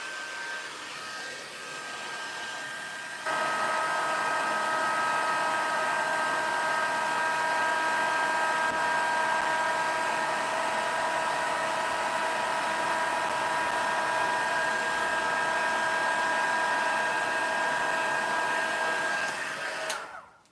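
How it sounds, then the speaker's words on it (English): A heat tool runs loud and steady for about seventeen seconds while melting embossing powder on a stamped card, a constant hair-dryer-like roar that starts abruptly and cuts off at the end. "I've got myself my heat tool, so it's going to get a little bit noisy"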